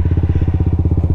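A motorcycle on stock tires with stiff suspension rides a rough, challenging road in Batangas, its engine chugging in a steady loud throbbing rhythm up close.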